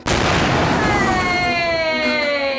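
A voice imitating a massive explosion, one loud close burst with a decaying roar that trails off over about two seconds.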